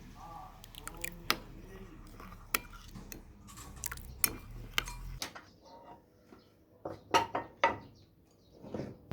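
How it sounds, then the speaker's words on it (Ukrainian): A utensil clinks and scrapes against a bowl in irregular bursts while salad dressing is stirred to dissolve salt, with sharp taps and brief pauses between. "А тепер потрібно все добре змішати, щоб розтанула сіль."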